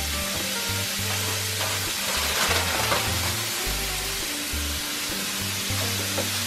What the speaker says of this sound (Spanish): Y aquí las vamos a dejar que se cozan. Que se frían.